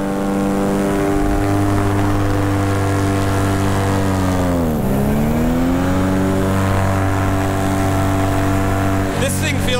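Motorized paraglider wing engine held at full throttle in flight, a loud, continuous droning roar with a brief pitch dip midway, close and steady throughout.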